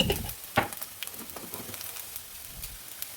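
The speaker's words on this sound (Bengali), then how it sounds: "সাইডেই তেলের মধ্যে দিয়ে দিয়েছি জিরে, সর্ষে, মৌরি ফোড়নে।" Cumin, mustard and fennel seeds sizzle in hot oil beside frying potatoes, a quiet, crackling spatter with scattered pops and one sharper snap early on.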